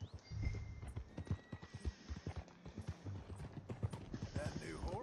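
Horse hooves clip-clop in a steady, rhythmic gallop while riding in the video game Red Dead Redemption 2, close and fairly loud, with voices talking over the hoofbeats.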